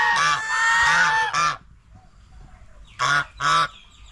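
Geese at a village-style farm zoo among paddy fields in Phatthalung, Thailand, give loud, close honks: a run of drawn-out calls, a pause, then two short sharp honks.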